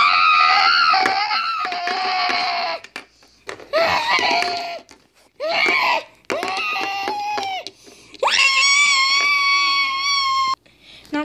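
Repeated high-pitched, piercing screams and wails come in several loud bursts separated by short pauses, the last one long and sustained, with no speech in between.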